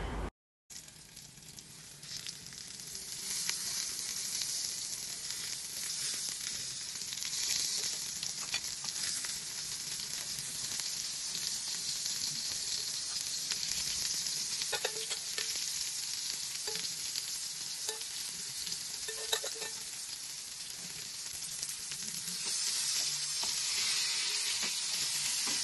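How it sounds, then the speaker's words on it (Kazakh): Pieces of pollock fish frying in hot oil, browning on both sides, give a steady, dense sizzle that carries on evenly without pause and with no voices over it. "Дәл осылай қалған балықты да қызып тұрған майда 2 жағын әбден қызартып қуырып алатын боламын қазір."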